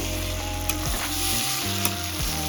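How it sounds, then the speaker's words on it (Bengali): Mutton keema ghugni made with mutton fat sizzles steadily in a pan, with a couple of sharp scrapes and clinks as it is stirred; close and continuous, with no talking. "পাঁচ মিনিট পর খুলে নিলাম নিয়ে আবার একটু নাড়াচাড়া করে দেব"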